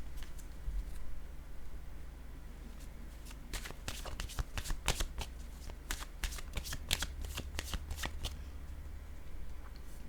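A deck of cards being shuffled, a quiet rustle at first, then a run of crisp riffling snaps and flicks, close and fairly soft with a low background hum.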